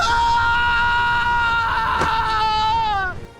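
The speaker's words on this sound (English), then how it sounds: "And Sora screams." Sora screams in a Kingdom Hearts 3 cutscene, one long anguished, sustained cry that holds loud and steady before wavering and breaking off at the end.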